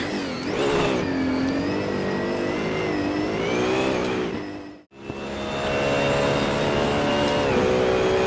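A race car's engine revs hard while being driven around a track in the Assetto Corsa driving sim, loud and continuous with rising and falling pitch through gear changes, a brief drop to near silence midway, no talk.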